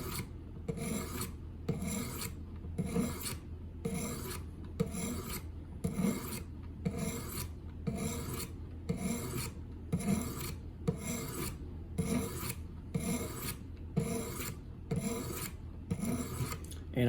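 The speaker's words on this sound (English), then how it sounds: "I'm gonna go ahead and start drawing the burr on the right side." A fixed blade knife is drawn across a whetstone to raise a burr in steady, evenly spaced rasping strokes, about fifteen in a row, close and quiet with no talking.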